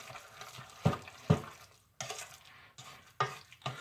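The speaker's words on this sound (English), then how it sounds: "now we're going to mix her up. Mix all this goodness together" Meatloaf ingredients being mixed together in a bowl, a few soft squelching thumps and scrapes coming in irregular bursts, close and fairly quiet.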